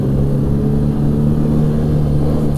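A 2016 Arctic Cat Pantera 3000 snowmobile with a 700cc four-stroke engine pulls away smoothly from a stop, its loud, steady engine drone rising evenly and heard close up throughout with no talking.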